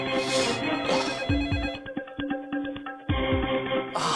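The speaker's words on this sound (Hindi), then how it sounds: "बिट्टू खोसला का फोन है क्या?" A telephone ringtone plays a bright, melodic electronic tune in repeating phrases, loud and near, with brief dips between bursts and no talking over it.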